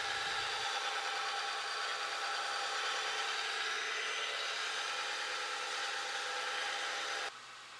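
A belt grinder pushed hard against a knife blank while grinding bevels, a loud, continuous abrasive whine that holds steady for several seconds before the pressure eases near the end.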